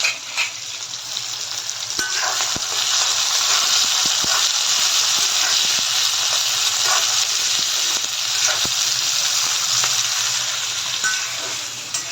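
Chopped onion with sugar and green chilies fries in a pan for a lobster masala curry, a loud, steady sizzle lasting several seconds, punctuated by sharp clicks and taps of a utensil.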